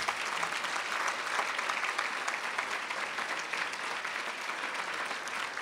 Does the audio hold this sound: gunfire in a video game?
no